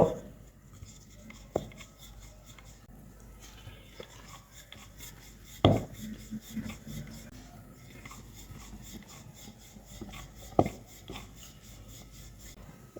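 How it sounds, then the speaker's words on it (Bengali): A rolling pin works a large piece of dough into a thin sheet for chicken momo, giving soft, faint rubbing and scraping with a few sharp knocks against the board. "এখন বড় সাইজের একটি রুটি বানিয়ে নেব"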